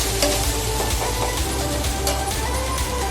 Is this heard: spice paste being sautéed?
yes